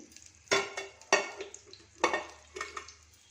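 Mustard seeds, chana dal and cumin crackle in hot oil as a tempering, with a few sharp bursts of spluttering and stirring scrapes against the pan, fairly faint and with no voices.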